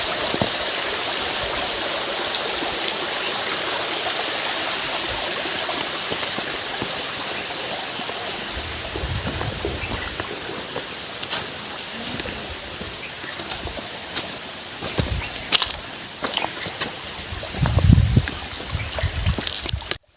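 Stream water flows in a continuous broad rushing wash, steady and fairly close, with a few low thumps and brief louder splashes toward the end and no talk.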